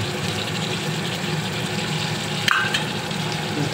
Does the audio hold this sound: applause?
no